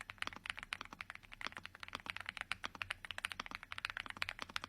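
Rapid, even typing on an Epomaker Aula S75 gasket-mounted creamy mechanical keyboard, a dense run of close, muted clacks with no talking.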